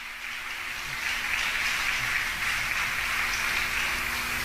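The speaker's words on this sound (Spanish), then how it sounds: "Dale un fuerte aplauso al Señor" A church congregation applauds steadily, a dense, continuous wash of clapping that holds at an even level throughout, with no voices rising above it.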